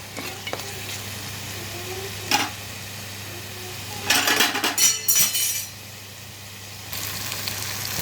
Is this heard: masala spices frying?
yes